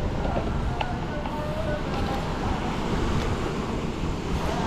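Wind blows steadily by the sea during a squid fishing outing, a broad continuous roar with buffeting against the microphone and the wash of surf beneath, no distinct talk.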